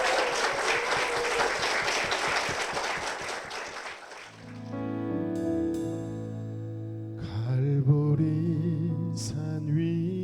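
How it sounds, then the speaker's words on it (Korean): Church congregation claps for two deacons, a loud dense patter that fades after about four seconds as organ or keyboard chords and singing of a hymn take over. "우리 두 분께 힘찬 축복의 박수 부탁드리겠습니다"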